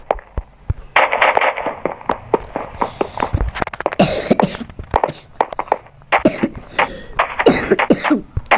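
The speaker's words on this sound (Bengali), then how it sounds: "গাইস আমার অনেক কাশি কিছু মনে করবেন না" A person coughing repeatedly in rapid bursts, loud and close to the microphone, a rough run of hacking coughs with short pauses between them.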